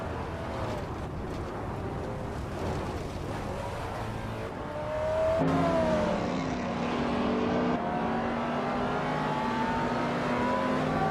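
Race car engines in a racing video game drone and rise in pitch as they accelerate, a steady layered roar of several cars with a sharp upshift midway and no voices.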